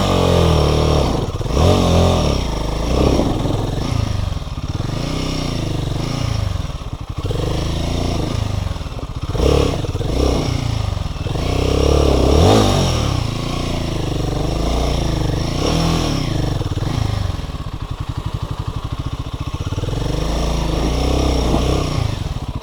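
An adventure motorcycle climbing a hill, engine loud and close, revving up and down repeatedly with rising and falling pitch sweeps as the rider works the clutch, no talking.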